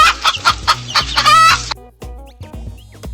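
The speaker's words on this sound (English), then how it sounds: "Hens are livestock animals that are often kept for their eggs." A hen clucks in a run of short, loud calls close by, with a longer squawking burst partway through, then a few quieter clucks trailing off; no one speaks.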